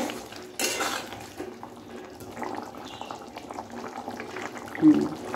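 Chicken simmering in a home kitchen pot gives a steady low bubbling, with faint utensil clinks and a brief louder knock near the end, no talk.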